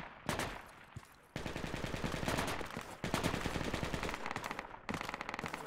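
Rapid automatic gunfire in Project Reality, fast crackling bursts of machine-gun shots in several volleys, close and sharp, with brief pauses between strings of rounds.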